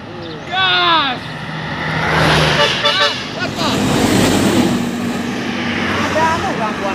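A vehicle engine roars and builds up under excited voices and shouting, mixed with wind and road noise. The roar stays loud and close most of the time.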